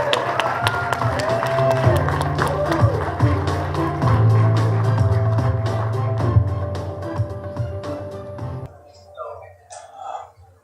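Audience applause welcoming a motivational leadership speaker, clapping and crowd noise mixed with talking and background music before cutting off abruptly near the end.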